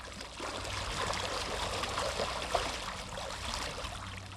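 A small salmon-spawning stream flows and trickles, a soft continuous burble of water with faint gurgles, quiet and even throughout.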